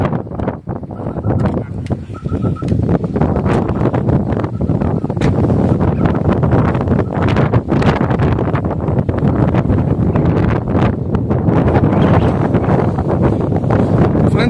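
Strong wind gusting across an open hilltop at Sitalayyangiri temple near Chikmagalur, Karnataka, a steady roaring rush with buffeting on the microphone that fills the whole stretch, loud and close, with faint voices briefly under it.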